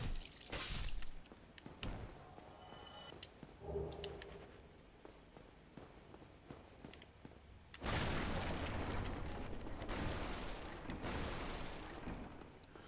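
Objects smash and break in the video game Dark Souls with sharp crashes, first in a few scattered bursts and then in a long, loud stretch of debris noise.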